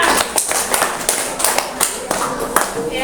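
Children clap their hands together in a classroom with a steady series of sharp, fairly close claps, while a voice talks over them.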